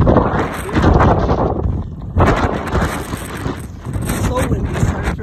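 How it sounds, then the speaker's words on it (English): Strong wind roars and buffets the microphone at a lookout tower atop the highest peak in Tennessee, surging in loud broadband gusts that drop briefly and return, with a person speaking intermittently underneath. "so windy, sorry for the noise."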